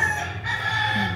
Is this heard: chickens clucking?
yes